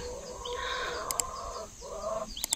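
Barred Plymouth Rock hens cluck and murmur in a continuous chatter, fairly close, with a few sharper clicks and taps breaking through near the end.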